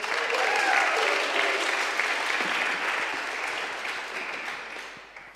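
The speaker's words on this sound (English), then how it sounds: "Let's give Les and Marion a cheer." Church congregation clapping and cheering throughout, a loud, steady wash of applause that tapers off slightly near the end.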